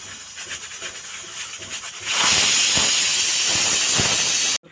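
A pressure cooker on the stove cooking moth beans for misal, a soft rubbing rattle at first, then a loud continuous hiss of escaping steam that holds steady for over two seconds before cutting off abruptly.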